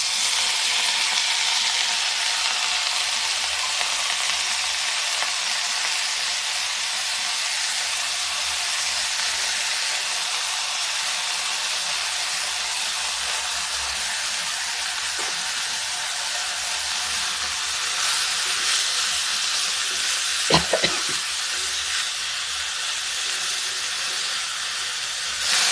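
Soya chunks and onion fry in an iron kadai with a steady, loud broadband sizzle and hiss throughout, a couple of brief stirring knocks near the end, close and continuous with no talk.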